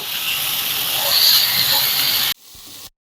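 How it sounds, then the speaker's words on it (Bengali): Soybeans frying with tomato in a pan give off a loud, steady sizzling hiss for over two seconds, then it cuts off abruptly and a quieter hiss follows briefly before silence. "সয়াবিনটাকে আমি ভালো করে ভেজে নিয়েছি।"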